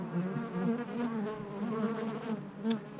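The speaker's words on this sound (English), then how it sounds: "Busy little bees." Honey bees buzz steadily at a busy hive as foragers return carrying pollen, a dense close drone with no talk over it.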